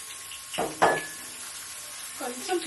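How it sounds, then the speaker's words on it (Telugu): Onions are dropped into hot oil in a pan and set off bursts of sizzling and crackling that then settle into a softer, continuous fry. A voice speaks briefly over it. "మన ఆయిల్ వేడైపోయిందండి ఇప్పుడు ఆనియన్స్ వేసేసుకున్నాం"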